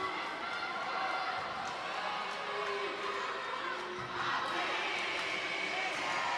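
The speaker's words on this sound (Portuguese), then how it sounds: "E a torcida vem junto" Fans at a dodgeball (queimada) championship final in Brasília roar and chant as one continuous, dense wall of crowd noise, loud and steady throughout with a brief dip near the end.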